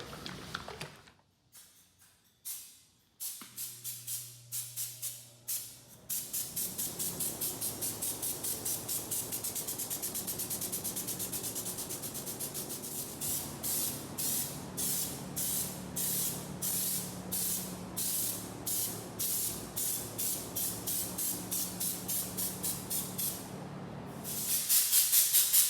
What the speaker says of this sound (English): So we're pretty much ready to start spraying.